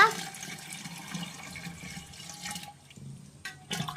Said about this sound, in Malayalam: ഇനി നന്നായിട്ട് വെള്ളം ഒഴിച്ചു കൊടുക്കുക